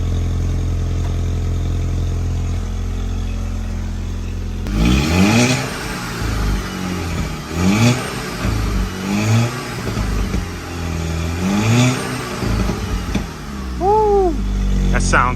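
A VW MK6 GTI with a stage 2 tune and a new downpipe idles low, then revs repeatedly in short sharp bursts that rise and fall, close and loud, with a voice speaking over it.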